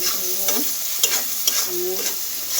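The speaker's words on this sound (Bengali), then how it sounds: "কাঁচামরিচ দিয়ে একটুখানি ভেজে নিয়ে" Green chilies sizzle in a hot pan with a soft, continuous frying hiss, broken by a few louder scrapes and stirs at a steady, unhurried pace.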